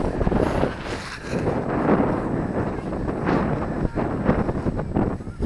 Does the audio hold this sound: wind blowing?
yes